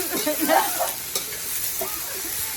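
Loud, continuous sizzling with scraping and stirring noises as fish is stir-fried in a hot pan.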